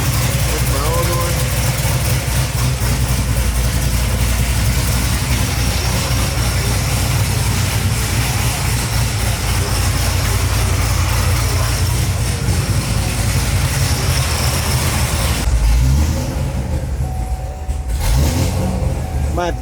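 An 850-horsepower Corvette Z06 engine idles loudly and steadily up close, a constant deep rumble that shifts near the end, with people talking beneath it.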